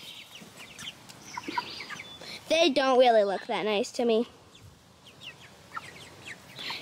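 Chickens cluck and squawk in a brief burst of loud, harsh calls, with people talking nearby before and after, at a family home.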